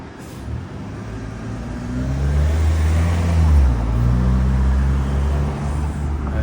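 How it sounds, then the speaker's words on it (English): A bus in city traffic passes close by, its deep engine drone swelling and then holding steady with a heavy low rumble and road noise, without talking. "Look at this bus right here."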